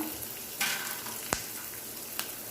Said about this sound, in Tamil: கொஞ்சம் நல்லா பொரியிட்டோம் எண்ணெயில்